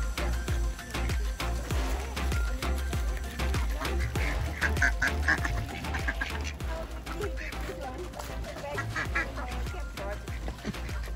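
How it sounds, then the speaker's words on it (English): Ducks quack loudly amid a busy crowd of birds during feeding on the Tasmanian east coast, with seagulls nearby and people talking over the dense, constant noise. "ducks coming from everywhere"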